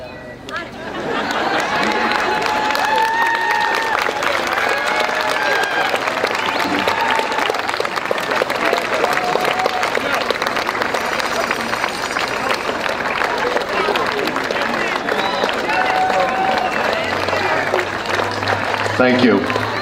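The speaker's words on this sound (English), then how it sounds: "give them a good round of applause as a sign of appreciation" Graduation audience at a high school ceremony applauding families, a dense sustained wash of clapping from a large crowd lasting the whole stretch, with faint chatter mixed in.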